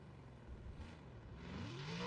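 Toyota Supra drift car engine in a sim racing game, a faint distant drone that rises into a revving whine toward the end.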